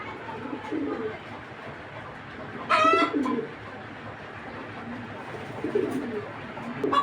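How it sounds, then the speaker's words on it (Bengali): A pair of Beji line pigeons cooing, with soft low coos repeating through a steady noisy background and one louder, sharper call bursting out midway. "এই একজোড়া বেজি লাইনের কবুতর কালেক্ট করতে পারেন"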